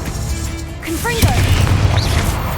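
A Confringo fire spell blasts in Hogwarts Legacy, a sudden burst with a crackling, booming tail amid game combat noise, with a voice calling out over it.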